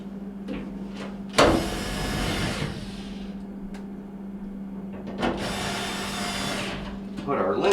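A power drill or screwdriver driving Phillips screws back into an Amana gas dryer panel, two whirring runs of a couple of seconds each, close, with a steady hum beneath and brief talk.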